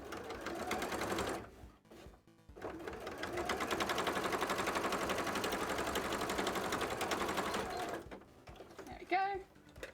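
A sewing machine stitches the base of a costume tail in two sustained, rapid runs separated by a short pause, followed by a brief voice near the end.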